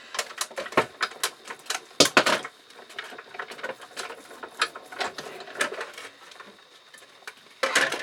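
A large die cutting machine runs a craft card through, giving a series of sharp clicking, ratcheting mechanical knocks in irregular bursts, fairly close and with no talking.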